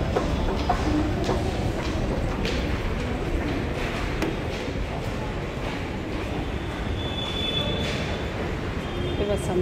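A metro train runs steadily close by, a continuous rumbling roar with faint wheel squeal and rail clatter throughout, and voices are heard beneath it.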